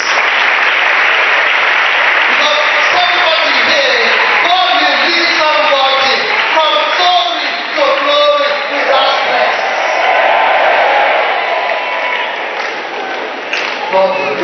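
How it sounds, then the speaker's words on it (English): A church congregation clapping for Jesus, sustained loud applause filling the whole stretch, with a voice and music-like tones running under the steady clapping. "Please, we will clap for Jesus."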